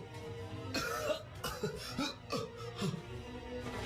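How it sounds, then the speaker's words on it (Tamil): A person coughs repeatedly in rough bursts, several harsh hacks in a row, close to the listener with a low background hum. "சரி சரி நீ இருமுறது போதும்."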